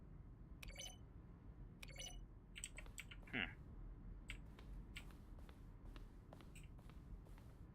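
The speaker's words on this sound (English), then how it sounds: "Each sound is a mix of a keyboard stroke and a synthesized tone." Button presses in The Stanley Parable, each a keyboard keystroke blended with a short synthesized tone, click out in a sparse, irregular series of sharp taps over a low ambient hum, quiet and close.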